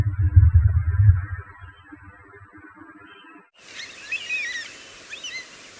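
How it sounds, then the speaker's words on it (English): Birds calling outdoors on the Western Australia coast: after a low rumbling start, a sudden cut brings in a busy chorus of high chirps and whistles, moderately loud, over background hiss. "The birds are going wild."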